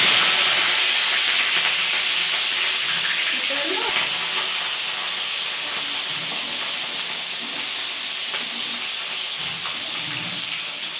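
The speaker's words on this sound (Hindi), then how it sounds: "और अब हम इसमें डालेंगे आलू और फूलगोभी जो मैंने काट के रखे हैं।" Potatoes and cauliflower frying in hot oil with panch phoron, a loud, steady hiss and sizzle that runs unbroken and fades slightly, with faint clinks of stirring beneath.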